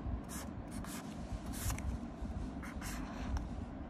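A teacher draws a bar chart large on the board, with quick scratchy marker strokes in short bursts over a low background hum, close and fairly quiet, no talking.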